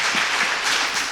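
A church congregation applauds during a worship service, a brief burst of many hands clapping together, loud and close.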